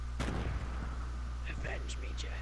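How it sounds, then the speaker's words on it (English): A shotgun fires in the Fortnite battle royale game, with one sharp, loud blast followed by fading echoes and scattered quieter game sounds over a steady low hum. "I'm going in with my shotgun."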